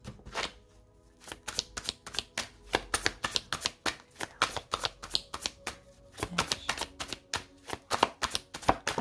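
A deck of tarot cards being shuffled and cut, a fast run of crisp riffling snaps and slaps in irregular bursts, close and clear with a brief pause early on.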